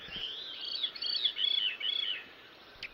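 A veery singing outdoors, picked up by an aimed microphone: a few quick, fluty descending spiraling phrases in succession, moderately clear against a quiet background with faint insect hiss.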